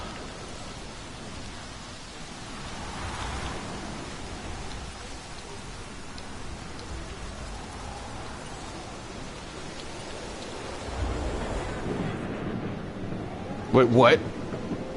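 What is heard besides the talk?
light storm with rain and thunder in the video game Jurassic World Evolution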